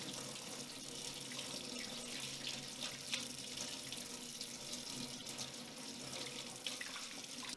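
A kitchen tap runs in a steady, unbroken splashing hiss as cured salmon gravlax is rinsed beneath it, quiet and continuous with no voices.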